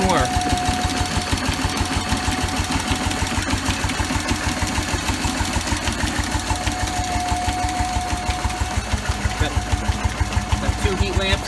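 A Bessemer engine drives a dynamo powering heat lamps and a bulb, chugging in a steady fast rhythm of regular beats with a constant whine above, loud and close throughout with a voice occasionally over it.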